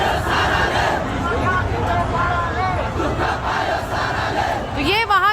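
Youth protest crowd filling the streets of Kathmandu, Nepal against the government, a loud dense roar of chanting and shouting voices that holds steady throughout.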